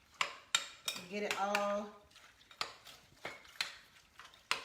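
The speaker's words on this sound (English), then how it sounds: "we're just going to stir this up" Utensils scrape and clink against a bowl as a green bean casserole mixture gets stirred, with several sharp knocks spaced through the clip and someone speaking briefly in the middle.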